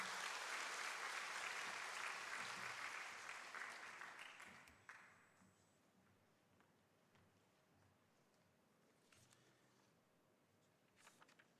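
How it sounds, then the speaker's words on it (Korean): A church congregation at a Sunday service at Busan Baptist Church claps to welcome a deacon to the front. The applause is loud and thick at first, then thins out and fades after about five seconds into a quiet room. "우리 나올 때 우리 수고하시라고 우리 박수로 맞이하겠습니다"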